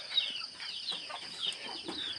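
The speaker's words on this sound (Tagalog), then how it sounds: "nagpakain si mama ng manok" Chickens clucking and calling at morning feeding time on a hillside farm, a busy overlapping chatter of several birds close by with no voices over it.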